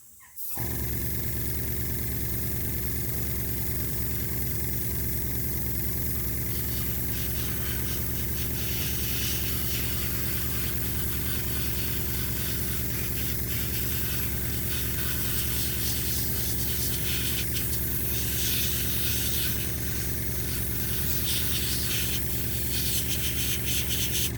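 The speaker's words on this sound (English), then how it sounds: "So we're just going to spray him." A continuous hiss of spray paint onto a miniature figure runs steadily for the whole stretch, loud and close, over a constant low mechanical hum.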